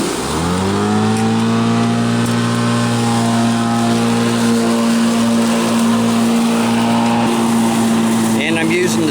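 A B&D battery-powered self-propelled lawn mower runs with a loud, steady motor drone and whine that holds constant and close throughout.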